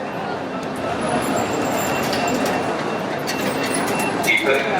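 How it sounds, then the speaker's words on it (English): Busy indoor hum of a large train station in Naples, Italy, with a low rumbling train, scattered clinks and distant voices echoing in the hall. "We arrived and we're in a massive train station now."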